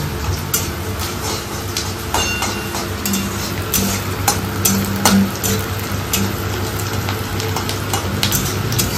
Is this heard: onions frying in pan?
yes